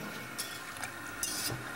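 A whisk stirs unflavored gelatine wafers into a pot, making soft liquid swishing with a few light clinks against the metal, close and quiet over a low background.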